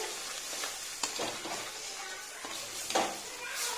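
Poppy seeds fry in spiced oil as they are stirred in a pan for Bengali rui posto with rohu fish: a steady close sizzle, broken by a few sharp scraping strokes of the spoon.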